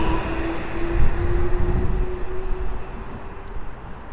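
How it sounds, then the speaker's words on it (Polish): A train rolls into Warszawa Służewiec station with a low, steady rumble and a sustained tonal whine, swelling slightly early on and then holding; no voices are present. "kolejny pociąg kierunku południowym za chwilkę wjedzie na stację"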